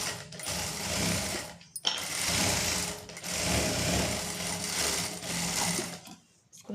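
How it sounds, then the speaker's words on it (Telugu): Sewing machine stitching curved pant pieces laid one over another, a steady close whirring run in several bursts broken by brief pauses, with someone speaking over it. "దాన్ని ఒకదాని మీద ఒకటి ఇలా పెట్టుకొని స్టిచ్ చేసుకోవాలి."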